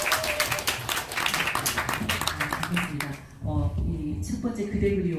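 An audience gives a warm round of hand clapping to welcome an acoustic-guitar singer at a poetry-song concert. The brisk applause fills the first few seconds, then gives way to a voice speaking and soft guitar tones.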